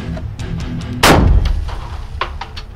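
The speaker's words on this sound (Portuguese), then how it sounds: "Agora o primeiro disparo." A single rifle shot is fired at a target during a forensic firearms training session outdoors, one sharp loud crack followed by a short rolling echo, with faint background noise before and after.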